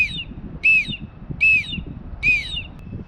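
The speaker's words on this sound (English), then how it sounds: "Nice little orange whistle, but I'll just give it a go so you get a sense of the sound." An orange survival whistle from a SOL Scout kit, blown in four sharp shrill blasts in an even rhythm, loud and close against a low background rumble.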